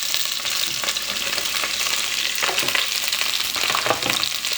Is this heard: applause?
no